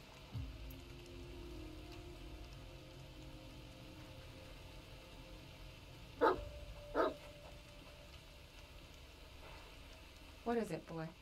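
A dog in the horror video game The Medium gives two short barks in the middle and another burst near the end, sharp and fairly close over a quiet ambient game background with low rain-like noise.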